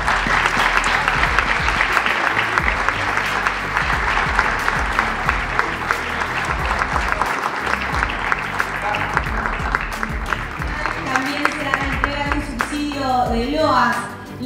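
A festival audience applauds at an award presentation, a sustained burst of dense clapping that fills the space before fading as a voice takes over at the end.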